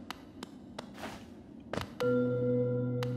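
Hollow Knight secret discovery cue: a few sparse, light pings followed by a soft whoosh and a brighter struck chime that rings out in a sustained, steady tone, heard alone without talk.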